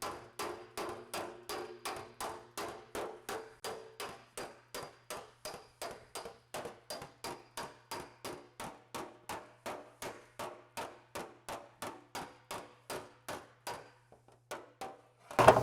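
A hand planishing hammer strikes the metal shroud of an Austin-Healey 3000 in a steady, quick run of about forty light, ringing taps, continuing at an even pace before stopping, with a final louder knock.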